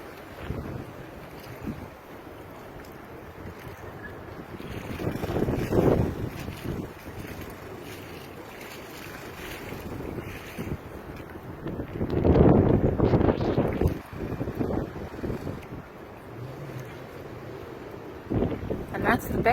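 Wake waves pushed by passing cars wash through Nor'easter flood water on a street in Ocean City, NJ, swelling and splashing in surges under steady gusty wind noise.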